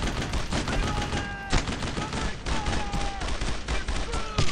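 Suppressing gunfire in the World War II video game Brothers in Arms, with dense overlapping rifle and machine-gun bursts firing continuously at close range, loud throughout.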